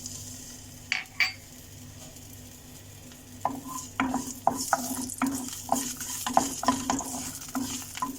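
Ginger and green chili frying in a teaspoon of oil in a kadai, with a couple of early clinks followed by a steady run of brisk spatula strokes over a light sizzle, close up.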